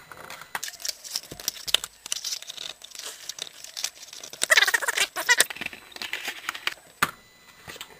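Scissors cut out a cardboard circle traced from a coaster, with crinkly snips and crunching cuts in an uneven close rhythm and a louder burst of cutting midway.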